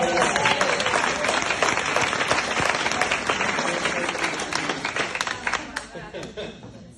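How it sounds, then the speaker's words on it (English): Loud, sustained applause from an audience at a common law meeting, crowd clapping with scattered chatter, steady for several seconds before thinning toward the end. "applause because she's so awesome"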